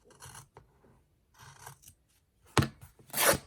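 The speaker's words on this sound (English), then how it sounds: "It does not want to tear in that direction." Fabric for a stitchery journal torn by hand in several short, raspy rips: two quieter pulls, then two louder, harsher tears close by, with no talking.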